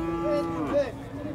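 A cow gives a single short, nasal moo at a busy cattle market, close and fairly loud, rising then bending down, over a low background murmur.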